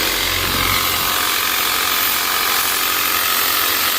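A Lippert cordless power cleaner sprays water, a loud, steady close hiss with a faint motor hum underneath, unbroken for a few seconds with no speech.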